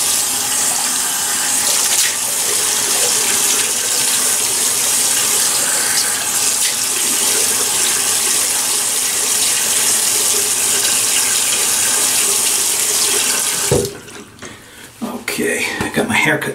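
Tap water gushes loudly and continuously into a bathroom sink to wet the face before a shave, a close, full rushing stream that cuts off near the end, leaving quieter splashes and handling sounds.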